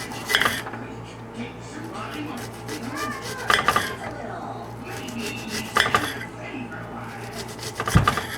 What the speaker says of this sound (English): And now we're going to cut the shallot